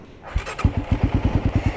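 A Motostar Cafe 400 motorcycle is push-button started close by. A brief starter whir catches into a loud, steady, evenly pulsing single-cylinder idle.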